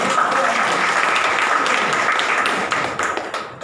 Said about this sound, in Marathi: त्यामुळे टाळ्या वाजवायला तर जोरदार वाजवा